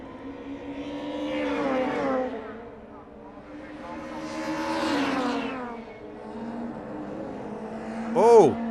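Touring cars, including BMWs, racing at Zolder circuit in the 1997 Super Tourenwagen series: engines roar past in waves, rising and fading with revving under steady race commentary, ending with a sharp whine.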